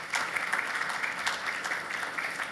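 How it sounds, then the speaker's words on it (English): Conference audience giving a round of applause, a fairly faint, even patter of many hands clapping continuously with no talking. "So give yourself a round of applause"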